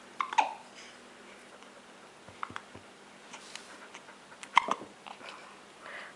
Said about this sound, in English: He's too busy hiccuping.